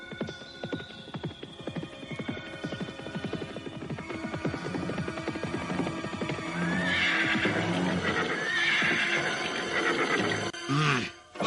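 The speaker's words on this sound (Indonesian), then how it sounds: "2 orang penunggang kuda menuju kemari" Two horses carrying riders approach at a steady trot, hooves clopping in a continuous rhythm that grows louder, with a neigh toward the end over a dramatic musical backing.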